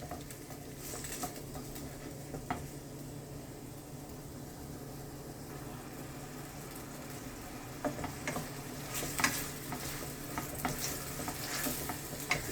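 Aromatic herbs sautéing in a pan for a Jamaican ackee dish give a steady, close sizzle and crackle with occasional stirring scrapes and pops, and no talking.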